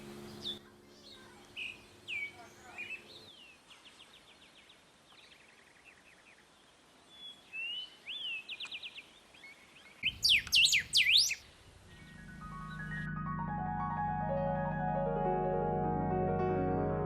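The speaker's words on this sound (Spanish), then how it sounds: "estaban seguros cuando escuchaban cantar a las aves" Birds sing in a sequence of clear chirps, trills and whistled phrases, some quick and high, with a dense burst of calls near the middle, fairly close and prominent over quiet background, before sustained tones take over at the end.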